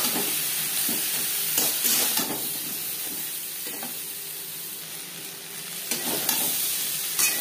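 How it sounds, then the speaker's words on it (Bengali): Pointed gourd fries with turmeric and salt in a pan, giving a loud, continuous sizzle with a few brief scraping stirs, close up and with no talk. "পটল ভেজে নেওয়ার পর একটা পাত্রে উঠিয়ে নেব"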